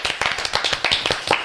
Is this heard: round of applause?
yes